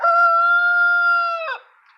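A rooster on a small homestead gives one long, loud, close crow lasting about a second and a half, then trails off into quiet.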